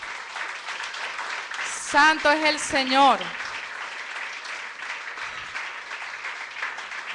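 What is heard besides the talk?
congregation applause in church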